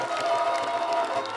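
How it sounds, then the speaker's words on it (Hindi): An audience at a village stage programme claps and cheers together in a lively, sustained burst, many hands and scattered shouts blending into a bright, moderately loud crowd wash. "एक बार ताली असी बजाओ कि जी सोयल हो उनकी नींद भी खुली जाए"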